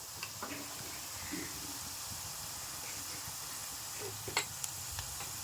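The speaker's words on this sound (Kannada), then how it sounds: "ಇವಾಗ ಇಷ್ಟೇ ಲೋ ಫ್ಲೇಮಲ್ಲಿ ಕರಿತಾ ಇರಲಿವು" Bitter gourd chips frying in oil over a low flame: a steady, soft sizzle and hiss throughout, with a few faint pops and clicks.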